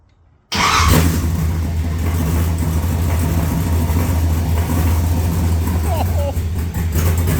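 An LSX V8 swapped into a G35 cranks and fires up, then settles into a loud, steady, rumbling idle close by with a few small revs, while voices are heard faintly over it.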